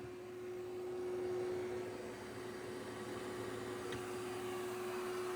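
A steady, faint vacuum whir with a thin constant tone on top from a Dyson Spot+Scrub AI robot vacuum in vacuum-only mode with its mop roller lifted, droning evenly throughout without pauses or voices.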